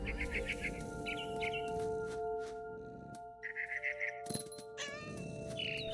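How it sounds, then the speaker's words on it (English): Barn swallow chirping in the video game What Remains of Edith Finch, a series of short bright chirps and trills over a steady game ambience with a low hum, some mewing-like calls mixed in. "Then I heard chirping outside my window. It was a barn swallow going back to her nest."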